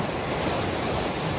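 A flash-flooded river roars past carrying debris, a dense, steady rushing wash of water that fills the whole moment, loud and close, with no voices.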